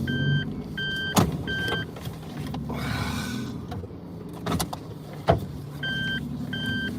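Car interior on an ordinary drive, a steady low road and engine rumble with a few sharp clicks and electronic chime-like beeps coming and going, no talk.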